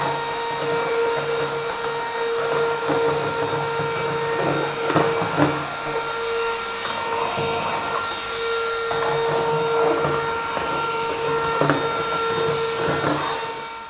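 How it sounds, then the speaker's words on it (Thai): A HAN RIVER cordless handheld vacuum cleaner, rated at 18000Pa, cleans a tool table. It gives a loud, steady high-pitched whine and airflow roar throughout, with faint scraping and knocks as the nozzle moves over the surface. "ลองดูดฝุ่นโต๊ะเครื่องมือช่างครับ"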